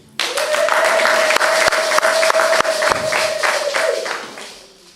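Applause from a church congregation rises suddenly and holds as steady, dense clapping for about four seconds, with a sustained organ or keyboard note underneath, then fades out.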